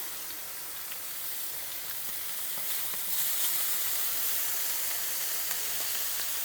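Oil sizzles loudly and steadily in a warped frying pan, a continuous close crackling hiss that grows slightly stronger partway through, with small pops scattered across it.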